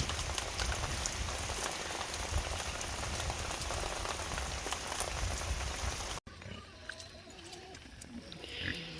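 Steady rain falling on a farm with pigs, a dense, even hiss of drops that cuts off abruptly and continues more softly with scattered patters and faint animal sounds.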